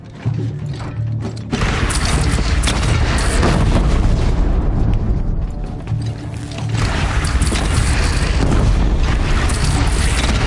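Booming cannon blasts from Horizon Zero Dawn thunder loudly through dense battle noise, with a brief lull before the barrage resumes at full force.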